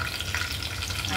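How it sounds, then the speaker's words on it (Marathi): Mustard seeds hit hot oil in a pan while sprouted matki curry is being cooked, giving a steady close crackling sizzle that stays even and dense throughout. "आता मोहरी टाकूया 1 चमचा"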